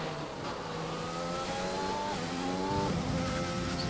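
A Formula 1 car in the F1 2020 racing game accelerates hard under overtake boost with a worn MGU-K, its engine note climbing steadily through rising harmonics, close and loud with no talk over it.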